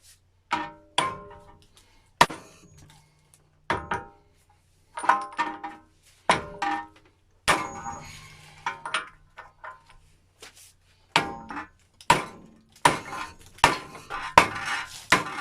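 Hammer blows on the front ball joint of a 2000–2006 Honda Civic: around twenty sharp, close metallic strikes, some single and some in quick bursts, with short silences between and no talking.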